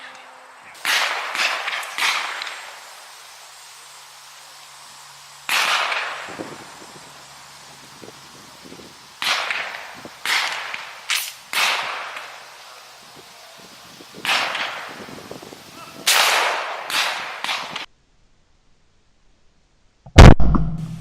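Shotgun fired at a target from 25 yards during dove-hunting practice, giving a string of sharp, fairly distant reports in uneven groups, each trailing off, with a quiet gap and a close thump at the end.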